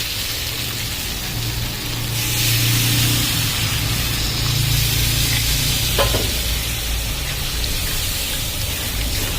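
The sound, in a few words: water poured into frying aloo posto (potato with poppy seeds)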